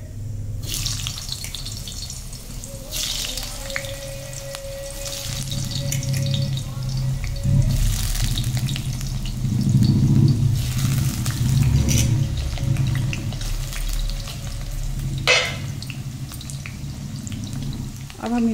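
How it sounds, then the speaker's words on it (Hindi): Potatoes frying in hot oil for a halwai-style aloo chole, a steady broadband sizzle and bubbling that runs throughout, fairly loud and close, with a brief clatter near the end and faint background voices. "ये हमारा तेल गर्म हो चुका है, अब हम इसमें आलू डालेंगे।"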